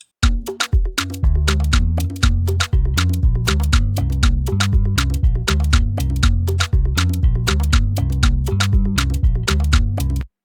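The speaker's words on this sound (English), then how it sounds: "So if I'm to solo with the loop and kick" A Modo Bass line locks in with a busy drum loop and kick, the bouncy gospel makossa bass riding under dense, rapid ticking percussion hits at a steady, loud groove.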